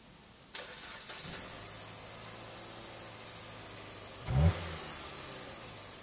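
A 2014 Jeep Patriot Latitude with a 2.4 liter engine and front damage cranks and catches, then settles into a steady low idle, with a brief rev swell near the end.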